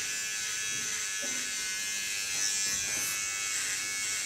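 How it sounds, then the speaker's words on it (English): An electric hair clipper, held upside down, hums steadily and close while it cuts short hair, giving a constant high buzz with slight changes in pitch. "Using my clipper upside down so I can get the nicest lines."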